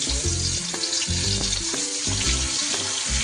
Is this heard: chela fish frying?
yes